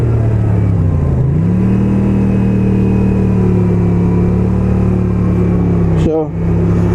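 A motorcycle engine, said to start first time, idles close and steady with a smooth low hum and a slight dip in pitch early on, followed by a short rise and a voice near the end.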